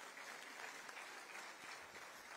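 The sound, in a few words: audience applause to congratulate Sanjay Lokhande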